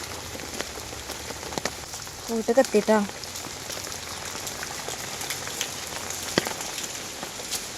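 Steady rain falls on surfaces around a village home after a heavy downpour, a constant close hiss with scattered sharp drips, while a voice speaks briefly partway through.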